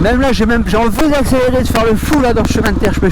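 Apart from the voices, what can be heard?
No everyday noise stands out behind the speech.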